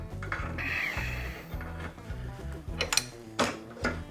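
A Toro 521 snowblower engine, just started and being nursed along, chugs in a steady low pulsing idle with some clattering mechanical noise close by.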